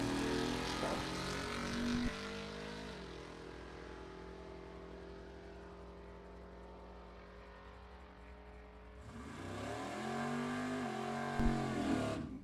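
A Mopar drag race car at a Super Pro, Pro, Street and Sportsman bracket event accelerates hard down the strip, its engine note climbing steadily and holding a loud, sustained roar before a second car surges up louder near the end.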